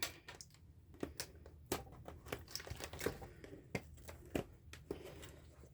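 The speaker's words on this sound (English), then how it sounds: "we're going to, again, unbox this from the bottom" Packaging being torn and crinkled open during an unboxing of a newly arrived haul item, with sharp rips and rustling bursts repeating close by and nobody talking.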